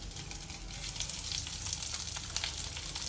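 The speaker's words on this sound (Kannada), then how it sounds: "ಈಗ ಜೀರಿಗೆ ಹಾಕೊಳ್ಳೋಣ ನಾನು ಜೀರಿಗೆ ಹಾಕೋತಾ ಇದ್ದೀನಿ" Cumin seeds frying in a pan, giving a loud, dense, continuous sizzle with crackling spits throughout and no talking.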